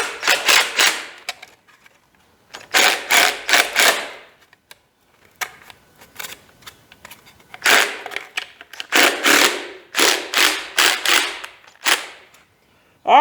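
Bursts of rapid clicking ratchet strokes tighten a fastener on a Chevy 327 engine piston, loud and close, coming in short groups separated by brief pauses.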